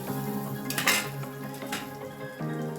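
Potato pieces tumble into a metal pan of spiced masala for an aloo matar gobi curry, a cluster of clattering impacts and scraping near and clear, with no talking.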